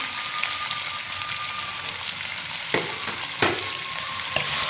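Carrot, cabbage and capsicum stir-frying in a pan for chicken egg fried rice, a steady close sizzle with a few sharp clacks of a spatula against the pan, no voices.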